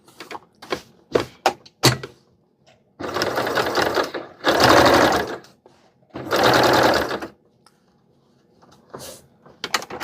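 Sewing machine stitching cotton gauze for a men's tunic shirt: two loud, close runs of rapid mechanical stitching a couple of seconds each, set between clicks and taps of the machine being adjusted.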